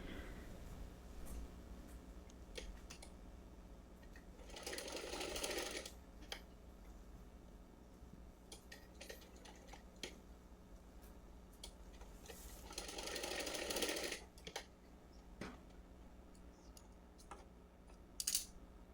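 A sewing machine runs in two loud bursts of rapid stitching along the edges of a small cotton frock, with quiet pauses and faint clicks between the runs.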